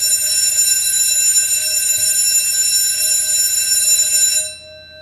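A school bell ringing, a loud, continuous metallic electric ring that holds steady for over four seconds, then cuts off abruptly into quiet.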